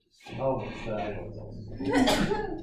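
A single sneeze bursts out near the end of a man's speech in a quiet room during a finance lecture, sharp and close after a run of talking.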